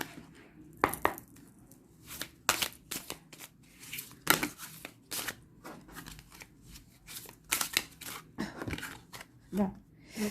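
A deck of playing cards being shuffled during a tarot-style card reading, giving repeated crisp riffles and flutters in short bursts over about ten seconds, with a voice speaking faintly beneath.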